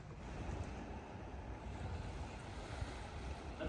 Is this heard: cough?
no